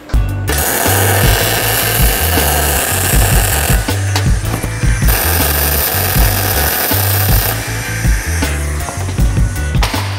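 Welding a V joint with a push-pull technique, a loud continuous crackling buzz with a pulsing low hum and intermittent knocks, running close throughout.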